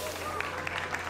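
Audience applause at a StarCraft Remastered ASL Season 4 match, with light clapping from the crowd under an announcer's voice and a steady hum throughout.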